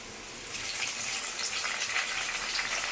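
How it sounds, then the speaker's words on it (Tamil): Steady trickling and splashing of water draining from grated cucumber, close by, rising slightly after a quiet start and continuing without pause. "அதை வந்து இப்படி தண்ணியை வடிச்சிடலாம்"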